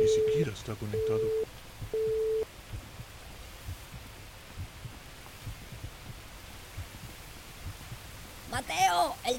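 A telephone busy signal in a video game, three steady evenly spaced beeps at the start, followed by a quiet room hum and a brief voice near the end.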